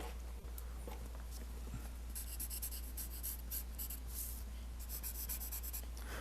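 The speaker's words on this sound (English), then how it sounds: "This pencil is not working on this stuff. This is a general's carbon sketch." A General's carbon sketch pencil scratching across the drawing surface in steady, close strokes, a continuous dry rasp with a constant low hum beneath.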